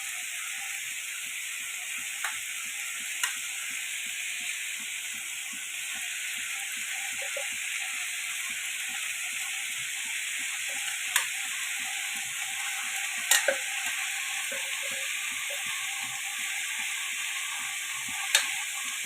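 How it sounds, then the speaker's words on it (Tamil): Grated coconut, half a shell's worth, fries in a pan with a steady soft sizzle, punctuated by occasional light scrapes and clicks of stirring, close and fairly quiet with no talk. "இந்த தேங்காவை வந்து நான் இப்போ போடுறேன் பாருங்கள்."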